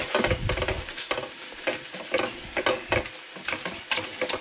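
A knife's back scrapes and taps around a pan of scrambled eggs, giving a series of irregular clinks and scrapes over a soft sizzle, close and fairly loud.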